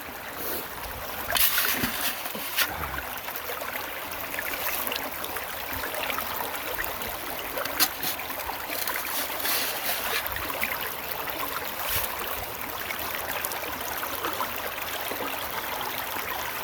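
Water runs and splashes steadily through gold prospecting gear on a winter creek in Indiana, a continuous rushing flow with occasional knocks and splashes, fairly close and without talk.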